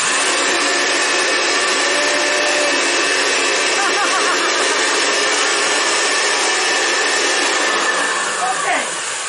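A homemade blower built for a DIY forge runs steadily, giving a loud, continuous whooshing hum of rushing air with no breaks.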